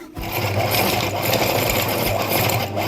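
A mixer grinder whirs loudly and steadily as it blends dates and raisins, a close, continuous motor buzz with grinding rattle and no voices.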